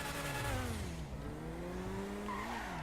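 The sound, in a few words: Elegy car driving in a video game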